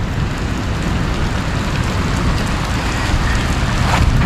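Rain falls outdoors at a riverside fishing spot during heavy rain, a steady dense wash of drops with some wind rumble, close and continuous throughout.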